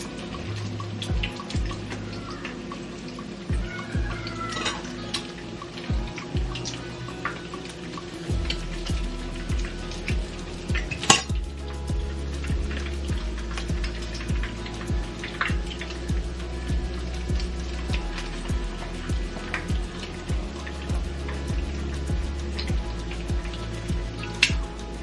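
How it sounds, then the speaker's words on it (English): A tuna patty frying in a pan of grease and oil, giving a continuous fine crackling and popping sizzle with sharper spits scattered through, heard close and steady over a long stretch with no speech. "just carefully place it in the grease and the oil"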